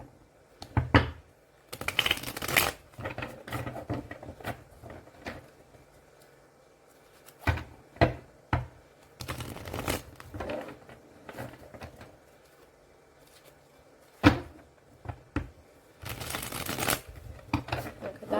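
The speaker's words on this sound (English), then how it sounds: "I'm just going to shuffle them the other side." Tarot cards being shuffled by hand during a card reading, crisp riffling bursts and soft shuffling clicks arriving in irregular clusters, close and fairly quiet, with pauses between bursts.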